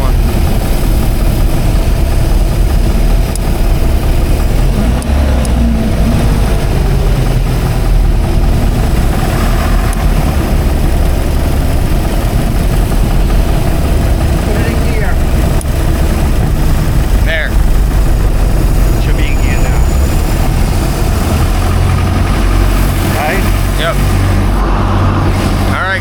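A classic speed boat engine runs loud and continuous at a rough, uneven idle, with rumbling exhaust and water wash throughout and no break.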